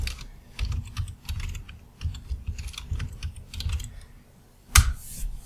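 Password keys tapped on a computer keyboard during a Hyper-V Server 2012 core install, a close, irregular run of clicks in short bursts with a sharper keystroke near the end.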